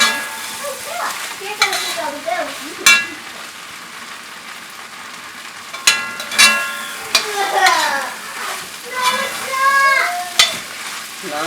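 Meat for a spicy loose meat sandwich fries in a pan with a loud, steady close sizzle and occasional utensil clicks, while a voice talks over it.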